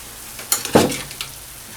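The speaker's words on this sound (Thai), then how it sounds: "แล้วก็ผัดผัดไปเรื่อยๆฮะ ให้พริกมัน อ่อนๆใช่ไหม ให้เห็ดมันเริ่มอ่อนๆ แล้วก็ให้เนื้อมันสุก" Beef stir-frying with red chili and mushrooms in a hot pan, a brief burst of sizzle and a spatula scrape heard close up, then a softer crackle.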